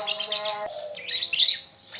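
A lovebird chirps in rapid bright twittering bursts, close and lively, with a brief steadier tonal note early on and a second busy flurry of chatter that fades toward the end.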